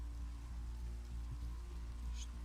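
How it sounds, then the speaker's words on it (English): Soft, steady rain falls in the Clue movie, a faint continuous patter under a low constant hum, with no voices. "The rain should stop soon."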